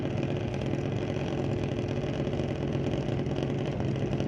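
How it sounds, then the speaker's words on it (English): Drag racing cars after their burnouts roll up to the starting line at Mission Raceway Park, a steady loud rumble of idling, throbbing engines without pause or speech. "Got the burnouts done, making their way up to the starting line."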